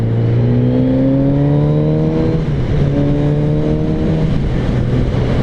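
Kawasaki Z900RS motorcycle engine revving, loud and close, with a steady droning tone that climbs in pitch and then settles, heard alone.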